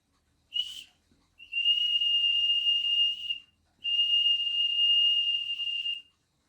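Three-D printed whistles, a small one and a larger louder one, blown in a short chirp followed by two long steady shrill blasts, fairly loud and close with no talking.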